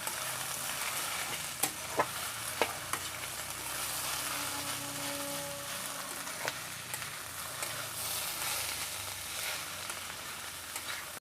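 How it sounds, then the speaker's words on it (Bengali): Ridge gourd being stirred with turmeric and red chilli powder in a frying pan, giving a steady close sizzle with scattered sharp scrapes and clicks of the spoon against the pan. "চিচিঙ্গার সাথে মশলাগুলোকে মিশিয়ে নেব"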